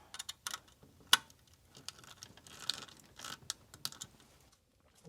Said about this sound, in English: Loosen up this terminal.